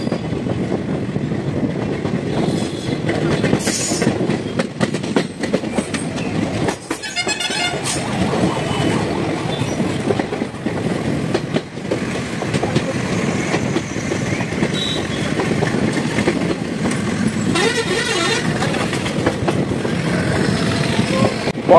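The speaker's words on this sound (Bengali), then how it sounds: "ট্রেনটি আসাম ট্রাঙ্ক রোডের সমান্তরালে পাশ দিয়ে চলতে থাকে" A train runs from Makum Junction toward Tinsukia in Assam, alongside the Assam Trunk Road, with a loud continuous rumble and clatter of the wagons. Brief horn toots sound a few times, and a voice talks over it at moments.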